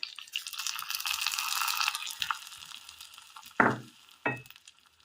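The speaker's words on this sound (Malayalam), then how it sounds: "കടുക് താളിച്ചത് ഇട്ട് കൊടുക്കാം." Mustard seed tempering poured into a Kerala curry, giving a hissing sizzle that fades, followed by two brief stirring bursts, close and moderately quiet.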